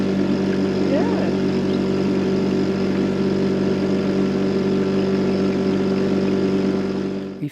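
A British Seagull outboard engine drives a small boat along a slow French river, its steady close-up mechanical drone and throbbing hum continuing loudly and unbroken.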